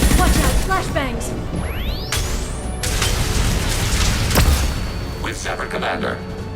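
Flashbang blasts and chaotic combat in the sci-fi shooter Mass Effect 2, loud booms and crashes with rising whine effects, all under character speech.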